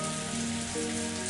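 Steady rain pouring from a grey rain cloud hovering under a hallway ceiling indoors, a dense continuous hiss of drops hitting the floor, even and close throughout.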